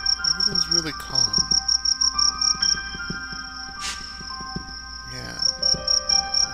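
Crickets chirp in rapid pulsed bursts in the calm night setting of Knytt Stories, a steady close trill repeating over soft ambient tones and a few brief game sounds.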